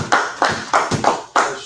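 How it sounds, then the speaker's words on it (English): A group claps in a loose, roughly even rhythm during a brotherhood class, about six or seven distinct, fairly close handclaps. "Everybody clap it up."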